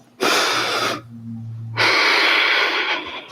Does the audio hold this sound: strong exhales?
yes